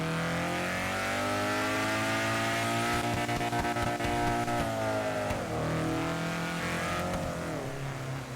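A Honda S2000 engine in GTA 5 revs hard and steadily, a dense droning roar with shifting pitch that holds loud throughout, with brief bursts of rougher texture midway.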